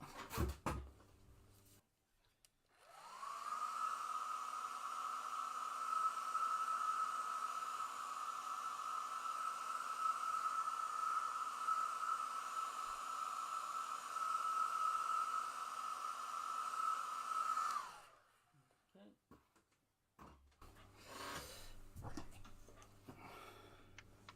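A nail polish accelerator dryer runs over a freshly painted first coat, giving a steady, fairly loud whirring drone that holds evenly for about fifteen seconds, then cuts off.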